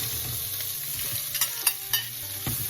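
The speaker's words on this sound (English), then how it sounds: "Hear that sizzle?" Hot oil sizzling steadily in a pot while cooking Dominican-style spaghetti, a continuous crackling hiss with a few sharper pops and scraping stirs near the end.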